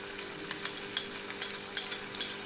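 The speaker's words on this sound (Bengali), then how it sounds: "দিয়ে মশলাটাকে আমি ভালো মতন করে কষিয়ে নেব।" Spice paste cooks with yogurt in a pan for doi potol, a soft steady sizzle with repeated light scraping strokes of a spoon at a quick, uneven rhythm, no speech.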